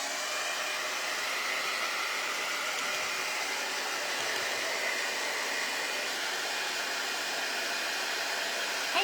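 A hair dryer blows steadily on freshly painted pieces of a s'mores snowman craft, a constant close whooshing roar that holds evenly throughout with no talk.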